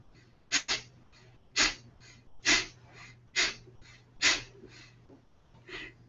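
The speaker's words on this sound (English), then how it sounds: "It's called the Kapalabhati breath, and it energizes you." Rapid series of forceful nasal exhales from the Kapalabhati yoga breathing exercise, about ten sharp puffs in uneven bursts over six seconds, close and clear with a faint low hum underneath and no talking.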